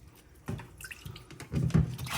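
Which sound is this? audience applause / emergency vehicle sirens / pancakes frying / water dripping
water dripping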